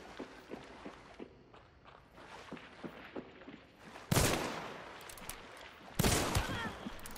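Hunt: Showdown gameplay: soft footsteps pad along quietly, then two loud, sharp gunshots crack out about two seconds apart, each leaving a lingering echo, with no talking.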